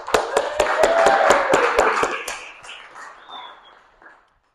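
Scattered clapping from a modest audience at a speech in Hartford, Connecticut, honoring an animal-rights volunteer: a burst of sharp, fairly regular claps with a brief whistle-like tone, thinning out and fading to silence after about four seconds.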